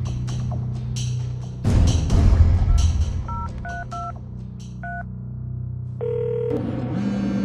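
Telephone dialing tones ring out as a call is placed, with short key beeps in quick succession, followed by a steady tone, close and clear over a low hum, with no talk.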